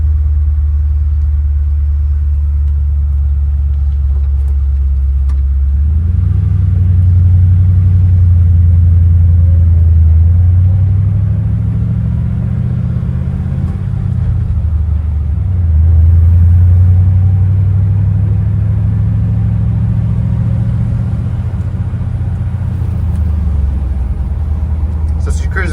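A 1966 Ford F100 with a 4.6L V8 and five-speed manual, heard from the driver's seat on a cold start: low engine rumble that rises into a steady idle, with a voice talking over it.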